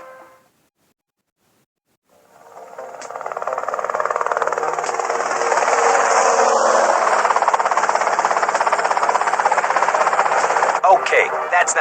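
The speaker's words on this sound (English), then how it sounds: "that's them in the chopper" Helicopter noise and rapid gunfire in the video game GTA Vice City, starting after a brief silence and growing into a loud, dense, continuous roar of chattering shots and engine that holds steady to the end.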